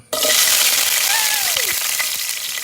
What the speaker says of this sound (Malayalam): വെളിച്ചെണ്ണ ചൂടാകുമ്പോൾ മുരിങ്ങക്കായ ഇട്ട് കൊടുക്കാം.